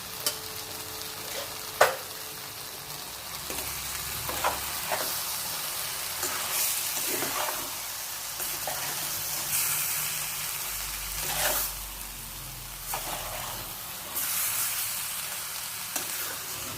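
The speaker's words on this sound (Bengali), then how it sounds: "এটাকে খুব ভালো করে ভাজা করে কষাই। কষাতে একটু টাইম লাগবে ভাজতে" Spice paste with turmeric, dried chilli and ginger frying in oil, a steady soft sizzle with occasional stirring scrapes and clinks, close up and without talk.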